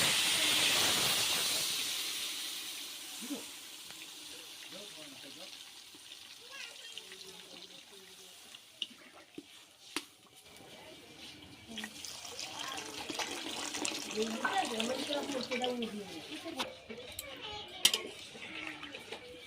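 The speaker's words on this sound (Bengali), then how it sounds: "আমি এবার জল দিয়ে দিচ্ছি" Water pours into a cooking pot of taro being prepared for a rohu fish curry. A loud hissing rush at the start gives way to softer, continuous splashing and bubbling, with occasional clinks and clatter of kitchen activity.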